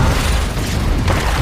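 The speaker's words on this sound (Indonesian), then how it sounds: "Terminator jahat masuk ke turbin sampai terjadi sebuah ledakan" A loud, sustained rumbling blast from an explosion inside a turbine in a Terminator film scene, with dense low-end roar filling the whole moment and no voices.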